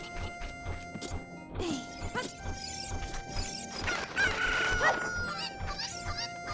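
Chickens in Ocarina of Time cluck and squawk in quick bursts, with a rooster-like crow and light thumps over soft game music, fairly quiet throughout.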